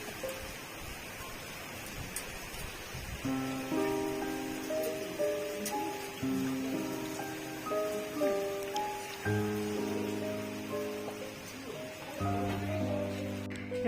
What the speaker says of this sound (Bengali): পুরো মেঘ করে বৃষ্টি শুরু হয়ে গেছে।